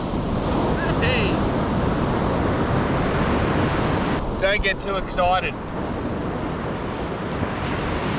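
Ocean surf breaks on a salmon-fishing shore in a steady, loud wash of rushing water and wind buffeting the microphone, with someone briefly speaking partway through.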